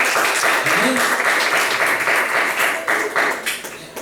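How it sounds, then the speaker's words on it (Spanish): Church congregation at a Spanish-language service applauding loudly for the Lord, a dense, close wash of clapping lasting about four seconds, with voices mixed in. "denle un aplauso fuerte al Señor."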